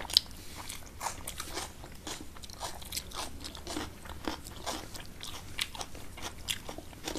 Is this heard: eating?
yes